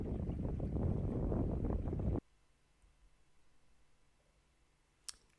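Wind roaring across the microphone on a boat approaching the dock, loud and dense for about two seconds before cutting off abruptly into quiet, with a single sharp click near the end.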